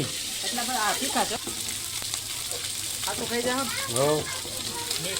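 Green chilies frying in hot oil in a home kitchen, a continuous close sizzle and crackle with someone talking over it.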